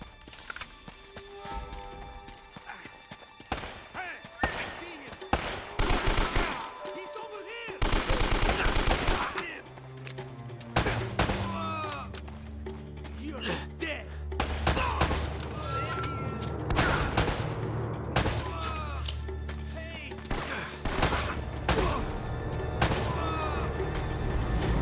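Gunfire in the Uncharted: Drake's Fortune video game, with rapid bursts of loud shots and heavy booming blasts through the whole stretch, some dense and overlapping, with a faint voice here and there.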